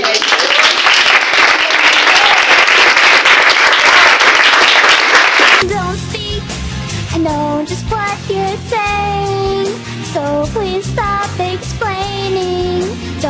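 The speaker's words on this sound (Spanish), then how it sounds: "nos saludemos con un aplauso" Audience applause at a film premiere talk with the director, a loud burst of crowd clapping for about five seconds that cuts abruptly into music with singing.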